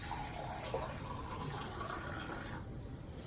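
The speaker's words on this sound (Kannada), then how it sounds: "ನಾನು ಇದಕ್ಕೆ ಸ್ವಲ್ಪ ನೀರನ್ನ ಆ್ಯಡ್ ಮಾಡ್ತೀನಿ." Water is poured into a pot of sambar in a home kitchen, a soft continuous splashing trickle that stays faint and steady throughout, with no talking.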